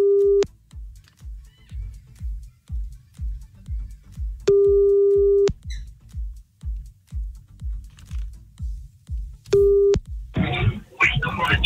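Repeated telephone tones during a French NRJ radio call-in, with a steady beeping busy or ringback signal cycling over a low rhythmic background bed, ending in a brief burst of line noise as the call connects.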